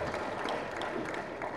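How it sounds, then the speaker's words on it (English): Dense, steady clapping from an audience at an engineering academy lecture fills the brief moment, a continuous wash of applause at even volume. "can I ask that we give him a round of applause?"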